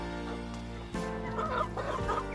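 Native free-range chickens, a mother hen with chicks, cluck softly and repeatedly, close by, over a steady low background hum.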